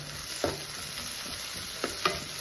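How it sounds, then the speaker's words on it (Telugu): Dried prawns frying in a pan, a steady soft sizzle with a few brief scrapes of stirring, close and fairly quiet, no talking. "ఇవి కూడా వేగుతున్నాయి"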